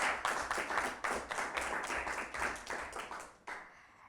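Group of children clapping together for themselves after a quiz round at a scouts' gathering, a dense burst of applause lasting several seconds before tapering off with a few last claps.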